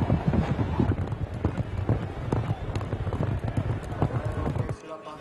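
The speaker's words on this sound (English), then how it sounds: "Horses gallop as crowds gather." Polo horses gallop at an international tournament with a gathered crowd nearby, their hoofbeats forming a dense, continuous rumble of thuds mixed with ambient noise before stopping abruptly near the end.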